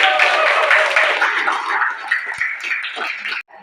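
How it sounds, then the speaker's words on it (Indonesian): Classmates clap for group 4 in a school lesson, a sustained wash of applause that starts loud and thins out over a few seconds before ending abruptly. "Beri tepuk tangan untuk kelompok"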